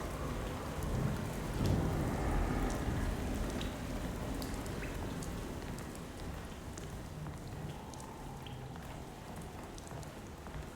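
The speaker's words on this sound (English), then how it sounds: "dark and stormy night." Steady rain pours throughout a stormy night scene in the survival horror video game Alone in the Dark, with low rumbling thunder swelling early on and fading into a continuous dense hiss.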